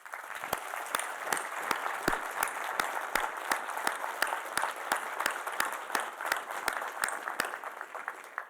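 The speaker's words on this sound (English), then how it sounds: "The men and women at that table deserve a round of applause for all that they've done to bring this amazing redevelopment project to life" Audience applause for a redevelopment project team at a December power breakfast event, steady sustained clapping from a crowd filling the room at even loudness throughout, with no voices over it.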